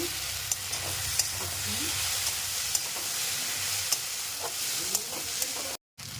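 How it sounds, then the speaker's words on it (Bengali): Okra and onions fry in an oily pan with a steady, crackling sizzle, and stirring clinks at intervals over the top. A soft low hum runs underneath, and the sound cuts out briefly near the end. "ভিন্ডি ভাজা হয়ে গেল, তার সাথে পেঁয়াজগুলো ভাজা হয়ে গেছে"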